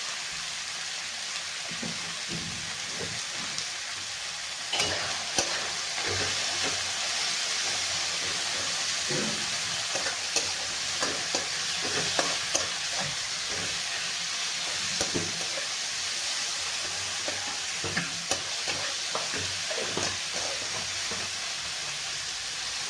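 Tomatoes with salt sizzle steadily in a frying pan, a continuous broadband hiss like light rain, broken by occasional soft scrapes and clicks from stirring, with no talking.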